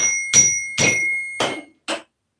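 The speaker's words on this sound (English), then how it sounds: "Ugh, I bought a new Zen bell," A newly bought Zen bell struck by hand, giving four quick metallic strikes with a bright ringing tone that hangs between hits, then one softer final tap, close and alone with no talk.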